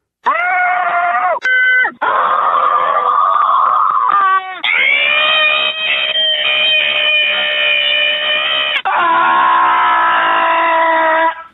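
Several people scream one after another into a telephone hotline, heard over a tinny, narrow phone line, the loud sustained shrieks broken by brief gaps.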